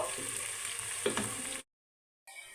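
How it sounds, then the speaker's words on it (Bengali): Sliced onions with whole cumin seeds fry in hot oil, a steady close sizzle that suddenly cuts to silence and then briefly returns. "এখন এগুলোকে আমি বেরেস্তা করে নিব"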